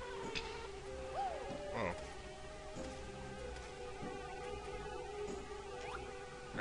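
Buzzing of bees in the Banjo-Kazooie video game, a steady insect drone with wavering pitch carrying through game music, with a brief spoken exclamation near the start.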